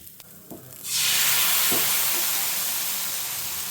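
Rava dosa batter for crispy hotel-style dosa hits a hot pan and erupts into a loud, sustained broadband sizzle that holds steady after a few quiet clicks at the start.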